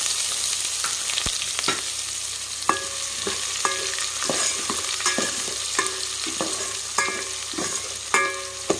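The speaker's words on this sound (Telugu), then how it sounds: "అవి వేగేటప్పుడే ఉల్లిపాయలు వేసుకోవాలి" Cumin seeds and onions frying in a pan for jeera rice, a steady close sizzle broken by repeated sharp scraping and stirring knocks of a utensil against the pan, with no voices.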